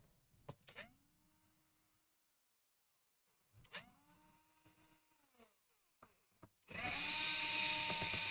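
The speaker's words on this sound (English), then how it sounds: "So we unscrew all the screws on the bottom." A power screwdriver unscrews the bottom case screws of a Samsung 470R laptop in several short whirring bursts with small clicks between them, close up, ending in a louder sustained whir.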